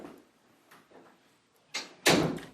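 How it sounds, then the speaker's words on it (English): A door is pushed shut in a home with a couple of soft shuffles, then a firm close and a louder latch thud at the end, near and otherwise quiet. "Close my door."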